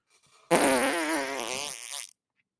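A person imitates a long, loud fart with a wet, buzzing voice, rippling for about a second and a half before stopping abruptly, heard alone with nothing around it.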